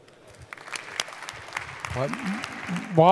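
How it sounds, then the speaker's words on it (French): Audience applause at an entrepreneurship award ceremony, a light, steady patter of many hands heard under a man's speech, with talk rising toward the end. "je crois qu'on peut les applaudir"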